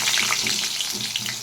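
Potatoes fry in hot oil with cumin seeds and bay leaf, a dense, steady hiss and crackle of sizzling throughout, close and moderately loud, with small popping bursts scattered across it.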